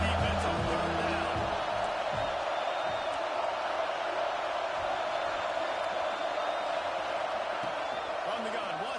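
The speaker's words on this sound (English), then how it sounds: "Decibels rising as the crowd gets behind this defense on third down." Football stadium crowd roaring behind the defense on third down at an Alabama vs FSU game, a dense, steady wall of cheering that stays loud throughout while a commentator talks over it.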